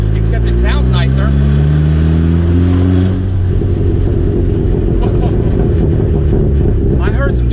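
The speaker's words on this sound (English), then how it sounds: "I heard the turbo flutter." A Chevrolet Cobalt's turbocharged engine revs hard and very loud at close range, its rising drone climbing, then breaking into a rougher, fluttering roar as the revs change, with voices partly masked by the engine.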